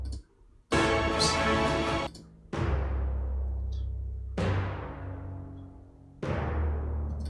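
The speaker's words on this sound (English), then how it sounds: "The timpani crescendo I love because this is from Metropolis Arc 3, and it's three timpani players playing together doing a really compact short crescendo." Timpani crescendo sample from Metropolis Ark 3, three timpani players together: several booming drum hits, one opening as a short dense roll, each ringing out with long resonant decay, loud and close with no voices.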